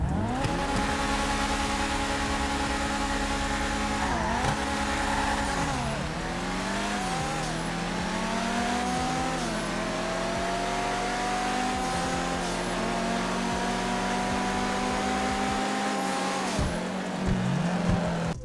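Race cars in GTA 5, a Ferrari-style Grotti against a Lamborghini-style Pegassi with a V12, drone and rev continuously, with engine pitch climbing through repeated gear shifts and occasional tire squeal, loud and without talk.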